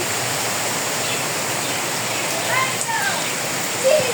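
Steady rain hisses continuously with a broad, even wash, nearby and constant, with a faint bird chirp and a voice in the background.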